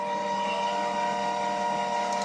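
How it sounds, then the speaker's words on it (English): A steady mechanical whir with sustained tonal hum, like a printer running continuously, with no pauses or voices. "That printer sounds awful this morning."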